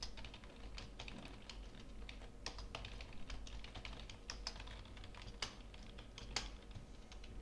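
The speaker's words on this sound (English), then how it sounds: "let's just type in some random letters" Random letters typed on a computer keyboard: a close, quiet, steady patter of key clicks with a few sharper taps.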